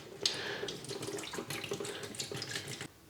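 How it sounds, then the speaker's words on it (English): Descaling solution is poured from a packet into the plastic water tank of a De'Longhi La Specialista coffee machine, making a close, steady trickling splash that stops abruptly near the end. "and with the decalc you pour it in."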